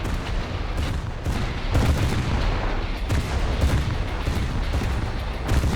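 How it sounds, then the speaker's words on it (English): Naval guns of warships firing broadside in ripple fire during War Thunder, a continuous rolling barrage of deep booming shots at steady loudness, with denser bursts around the middle and end and no talk. "Moving to ripple fire now that we have broadside"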